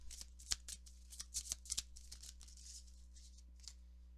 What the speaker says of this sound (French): On va aller chercher maintenant une carte conseil pour vous.